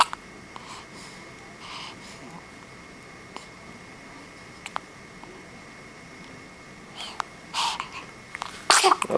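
A baby's sneeze bursts out sharply near the end, after a long stretch of quiet room tone broken only by faint small clicks and breaths.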